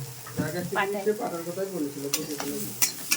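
Leaves frying in a pan with salt and turmeric, giving a close sizzle broken by scraping stirring strokes and a few sharp clatters.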